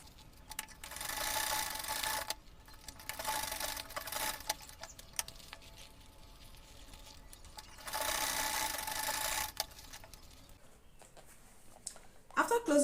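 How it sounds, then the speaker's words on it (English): Sewing machine stitching a zipper pouch seam at a half-inch allowance, running in two steady humming bursts with a pause between, close by, with a person talking over it. "I'll be sewing this by 1/2 inch."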